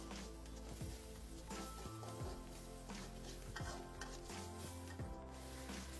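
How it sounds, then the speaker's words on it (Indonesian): A spice paste seasoned with sugar and salt sizzles steadily in a pan while a spoon stirs it with periodic scraping strokes. Music plays underneath throughout. "Sekarang kita aduk-aduk, kita masak bumbunya sampai benar-benar matang."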